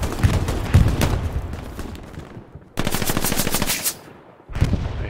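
Tommy gun fire in the World War II shooter Brothers in Arms, with loud sustained automatic bursts broken by short gaps, heavy and close, and no talking over it.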